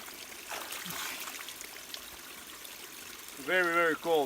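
A cold, clear stream flows steadily beside a bushcraft campsite, a soft continuous trickle in the background while a voice speaks briefly near the end.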